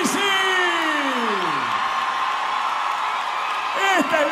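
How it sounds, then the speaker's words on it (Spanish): A festival audience of cuarteto fans gives an ovation at the Festival Internacional de Peñas, whoops and shouts rising over a continuous crowd roar while a loud announcer's voice sweeps over it. "¡Esta es la ovación del público cuartetero!"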